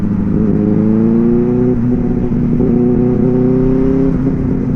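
A Benelli 600i motorcycle fitted with a loud Ixil L55 exhaust pulls hard on a night ride. Its throaty, close exhaust note climbs and steps through several rising pitches as the rider accelerates through gears, with no voices.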